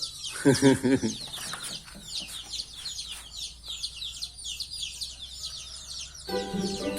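Hens cluck in a few close, loud bursts inside a coop while chicks keep up steady shrill peeping throughout, with faint rustling underneath.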